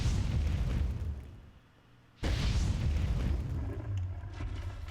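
Explosions from a combustive attack chip in a video game: a loud, broad blast rolls on, dies down briefly, then a second sharp burst hits at full strength and keeps rumbling.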